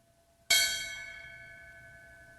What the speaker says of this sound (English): the ringing of the ceremonial bell to honor the lives lost